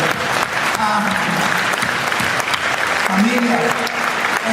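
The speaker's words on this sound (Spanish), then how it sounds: "dale un gran aplauso a nuestro Rey" A church congregation claps loudly and continuously during a service, dense applause close up, with voices speaking and calling out over it.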